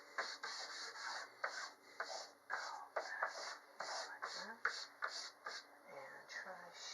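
Charcoal scrapes across paper in short, rhythmic shading strokes, a close, soft scratchy rubbing repeated about twice a second, with faint quiet murmuring in the background.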